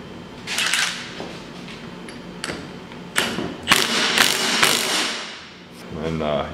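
A wrench works on a Polaris 700/800 engine during a rebuild, making a series of close metallic clanks, ratchet clicks and thuds in uneven bursts with a workshop background.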